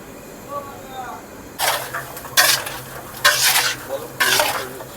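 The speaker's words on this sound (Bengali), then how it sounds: "দেওয়া হচ্ছে ঘি" Ghee goes into a hot pan with marinated chicken and spices for chicken biryani, sizzling in several short bursts alongside stirring and clinks of a utensil against the pan.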